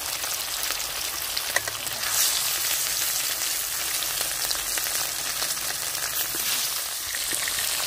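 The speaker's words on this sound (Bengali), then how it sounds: "মাছগুলো একটু ভালো করে কড়া করে ভেজে নেব।" Thick katla fish pieces frying in oil, a steady loud crackling sizzle with occasional pops, close and continuous with no talking.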